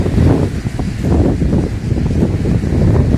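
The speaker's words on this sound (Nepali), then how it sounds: "हावा त क्या दामी चलिदिरहेछ" Wind blows at the seaside, a steady, gusty low rumble buffeting the microphone throughout, with no clear voices.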